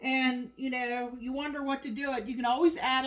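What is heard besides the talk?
No distinct noise like a dog, phone or traffic.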